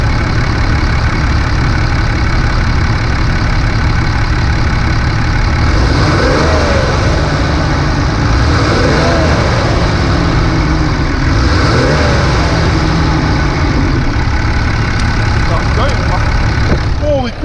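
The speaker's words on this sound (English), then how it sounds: "So I'm gonna point you down here at the intake and let's see if we can get a sound of that turbo going." A loud Cummins diesel truck engine idles and revs with the hood open, heard up close at the intake, where a deep steady rumble carries a turbo whistle that rises and falls in a few swells.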